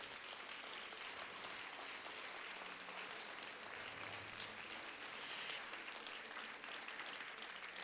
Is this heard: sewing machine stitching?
no